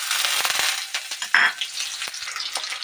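Onion, garlic and dried chilli hit hot oil in a wok, giving a loud, steady close sizzle and crackle with a brief sharper hiss burst partway through.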